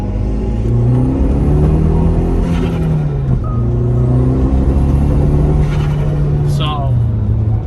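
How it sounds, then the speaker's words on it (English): A turbocharged Audi TT engine with a boost-related misfire above 3,000 RPM, pulling hard under boost and breaking up. A loud, steady engine drone rises and falls in pitch for several seconds, with brief rough stumbles. "So it definitely misfires after like 3 grand. Once it hits peak boost, pretty much it'll misfire."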